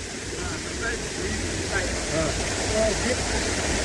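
Steady, dense rush of water pouring at the Lihonger waterfall in hot weather, a continuous broadband roar that stays even and fairly loud throughout with no pauses.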